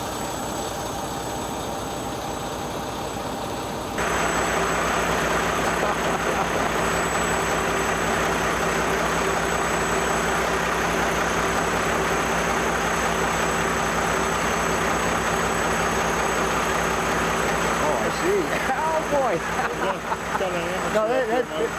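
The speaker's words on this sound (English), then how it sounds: "The engine's got to keep running. We're dieseling along." A diesel engine idles steadily for a long stretch, a constant low rumble that steps up louder after a few seconds and holds, with people talking nearby over it.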